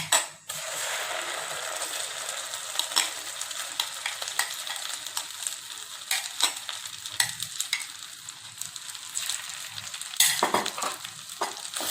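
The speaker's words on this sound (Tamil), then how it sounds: "அடுத்து இந்த அரைச்சி வச்சுருக்க பேஸ்ட்டை உள்ளே போட்டுடலாம்." Ground masala paste fries in a pan for paneer butter masala, giving a continuous moderate sizzle with scattered stirring scrapes and clinks throughout.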